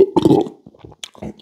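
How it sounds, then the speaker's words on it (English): A person belches, a loud, throaty burp with a low, croaking tone in the first half second, followed by quieter gulping and breathy throat sounds. "I guess there's, like, another burp coming on"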